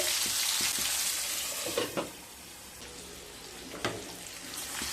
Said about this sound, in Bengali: মিডিয়াম ফ্লেমে আলু আর পটলকে ভালোভাবে ভেজে নিয়ে তারপর ফিরে আসছি।